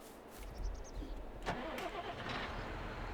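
A John Deere tractor with a 68 horsepower engine in Farming Simulator 22 cranks briefly, catches, and settles into a steady mid-pitched idle, heard alone at moderate volume.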